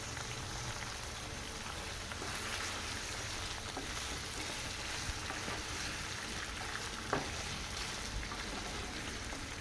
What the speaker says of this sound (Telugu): త్రీ మినిట్స్ ఇలా ఉడికించాలి చికెన్ని